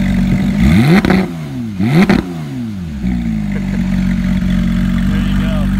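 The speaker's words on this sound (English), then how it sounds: "We're gonna have the motor rev for" A 2015 Porsche 911 GT3 flat-six blipped to sharp revs twice, each climbing and falling fast, then settling into a loud steady idle, up close with a brief word spoken.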